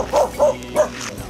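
A dog gives three short, close barks in a quick, evenly spaced run, riding along on a vehicle in a rice-field rat-trapping area of Tri Tôn, An Giang, followed by a brief softer yelp.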